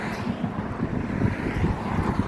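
Strong wind buffets the microphone in a steady low rumble, loud and close, with gusty swells and no voices.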